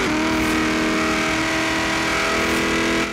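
A supercharged V8 car engine in the video game Forza Horizon 3 drones steadily at high revs, its tone holding even and loud for a few seconds.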